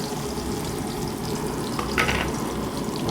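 Garlic and onion hitting hot oil together for pork adobo, a dense continuous sizzle close up with a brief clink of a utensil near the end, no talking.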